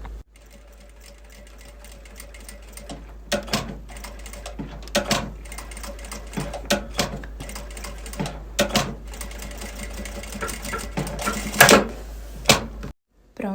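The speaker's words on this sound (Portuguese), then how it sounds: "Passar uma costurinha em cima dessa que eu fiz, pra poder prender o elástico de um lado." Sewing machine stitching elastic onto a fabric Easter bunny pencil holder, close rapid mechanical chattering in repeated bursts separated by short pauses, with a low steady motor hum underneath.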